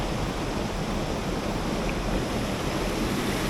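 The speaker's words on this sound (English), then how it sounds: "Got a waterfall right here" Small free-falling waterfall about a foot high in a slot canyon on Vancouver Island, producing a loud, continuous splashing rush of water, close and unbroken from start to finish.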